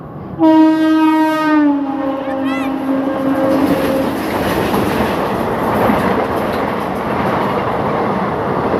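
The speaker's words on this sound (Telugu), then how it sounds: "ఇప్పుడే మాకు 1st number platform super fast train వస్తుంది" The Tirumala Express sounds its horn in a long blast as it rolls in to platform 1, followed by a steady loud rumble and clatter of wheels on the rails.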